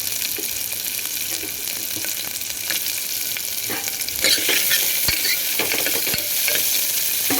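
Shallots stirred and sautéed in oil for biryani sizzle steadily in a pan, with the frying growing louder partway through and soft scrapes of the stirring spoon breaking through now and then.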